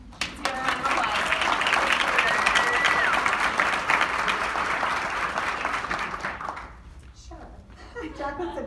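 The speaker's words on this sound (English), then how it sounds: "Let's give her a round of applause." An audience at a Kansas City tour event bursts into sustained, dense applause that holds steady for several seconds before thinning into scattered claps, with a voice speaking as it fades.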